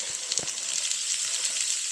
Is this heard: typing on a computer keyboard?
no